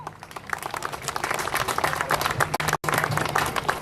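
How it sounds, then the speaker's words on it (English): An audience at a Goan festival in London applauds and cheers for a speaker, steady dense clapping throughout with a brief dropout near the end. "please, a big cheer for Honourable Keith Vaz."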